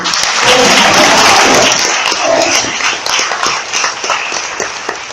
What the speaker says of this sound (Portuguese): Aleluia, vamos aplaudir o Senhor.